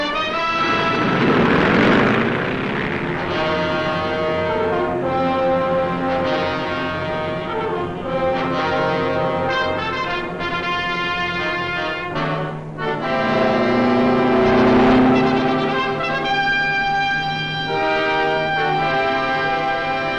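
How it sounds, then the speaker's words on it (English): Over 100 carrier planes taking off from three aircraft carriers for a practice strike, a loud sustained roar of propeller engines that swells and fades as aircraft pass, with no talk. "Over 100 planes rise from the 3 carriers to strike at an imaginary enemy beyond the horizon."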